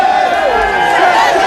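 Large crowd at Sachin Tendulkar's book signing in a shopping centre in West Bromwich, a dense, loud wash of shouting and cheering voices that stays constant throughout.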